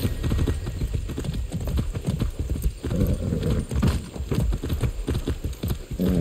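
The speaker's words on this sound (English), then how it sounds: "That's a good horse." Horse hooves clip-clop in a steady trotting rhythm in the video game Far Cry 6 on PS5, close and continuous throughout with occasional snorts.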